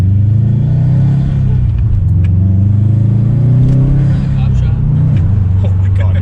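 A 300 hp Stage 1 Subaru STI drives through snow, its engine giving a loud, close, continuous low drone that swells slightly as it pulls, with a muffled cabin rumble throughout.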